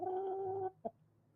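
A chicken out at night gives a sustained nasal cluck-like call lasting over half a second, then one short sharp cluck, close and clear with no talking.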